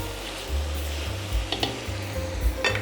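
Mushrooms being stirred in a pot for a roasted-pepper and garlic mushroom zacuscă, with a steady sizzle of frying and a few short scraping strokes of the spoon, close by and alone.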